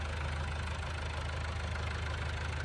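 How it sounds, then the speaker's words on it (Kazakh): A Korean-made LG mini tractor with a four-cylinder water-cooled engine idles nearby, a steady low rumble with a fast, even chug that never changes pace. "LG деген трактор."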